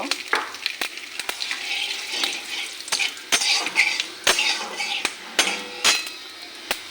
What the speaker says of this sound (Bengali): আমার তেলটা গরম হয়ে গেছে গোটা জিরা লং এলাচি দারচিনি তেজপাতা ওটা দিয়ে দেব